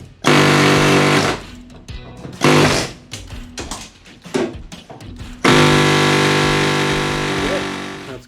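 A pneumatic air tool rattles loudly while knocking rivets out of bus body panels, firing in several long bursts with short choppy stutters between, ending in a sustained run.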